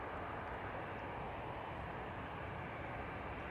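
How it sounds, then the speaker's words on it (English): An Airbus A330-200 jet departs Manchester Airport, a continuous broad roar of engine noise holding at a steady level throughout, heard from a distance with no voices. "Awesome departure as always from that A330-200."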